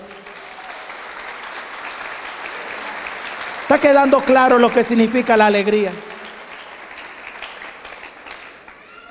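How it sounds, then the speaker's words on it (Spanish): Congregation at an evening Guadalupe Marian service applauds for a couple of seconds mid-sermon, a burst of clapping that rises and fades while the priest keeps preaching over a steady hum of the hall. "Le damos un aplauso fuerte al Dios de la vida."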